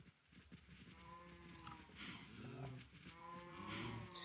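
Several Minecraft cows moo in overlapping, drawn-out low calls, fairly quiet and layered over one another with no speech.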